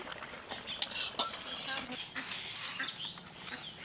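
A spoon stirring tilapia and green banana curry in a cooking pot, with scattered metallic scrapes and clinks against the pot and faint background bird calls.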